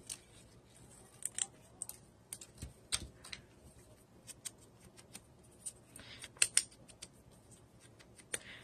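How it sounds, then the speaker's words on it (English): Small scissors snip out a paper flower for a journal, making quiet, irregular close clicks and crisp cuts spread across a near-silent background with no talk. "I'm going to cut this flower out, ink it, and use it in the corner."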